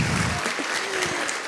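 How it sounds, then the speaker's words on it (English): An audience at a patient day event breaks into brief, dense applause that is loud and close, with a voice briefly heard at the start. "Let's give her a round of applause."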